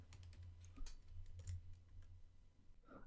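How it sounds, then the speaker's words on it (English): Steady typing on a computer keyboard while coding a WordPress theme, a dense run of quick clicking keystrokes at close range with no speech. "So we'll type that inside the brackets."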